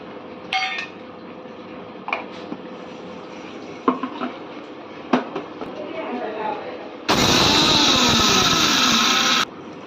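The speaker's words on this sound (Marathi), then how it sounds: "आता मिक्सरमध्ये वाटून घेऊया" A few scattered clinks and kitchen clatter, then a loud mixer grinder grinding sesame seeds whirs steadily for about two seconds before cutting off abruptly.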